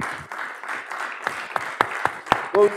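Light audience applause at a tech panel discussion, scattered uneven claps with a few sharper hits, fairly close, ending in a brief voice.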